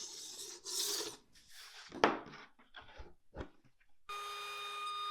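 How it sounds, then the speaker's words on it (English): A razor blade scraper scrapes hot glue off a wood board in uneven close rasping strokes and scratches, ending in a steady high tone. "a razor blade scraper and began scraping away as much of the hot glue as I could"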